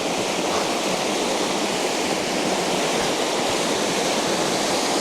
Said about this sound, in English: oh, maybe the waterfall's right here.